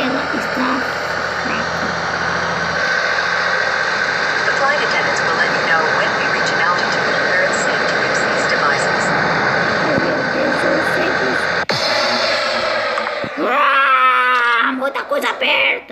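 A loud, constant airplane engine drone in Flight Simulator 2018 fills the scene, then cuts to a different engine tone and a wavering whine near the end.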